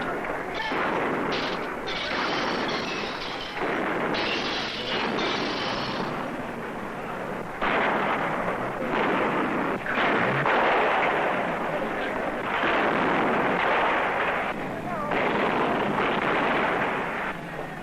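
Old newsreel battle footage of machine guns and rifles firing, a dense, continuous clatter of shots and bursts running throughout alongside a narrating voice.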